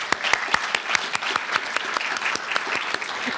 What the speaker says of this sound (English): I'd like you to give Nancy Nyland a round of applause for putting us all together.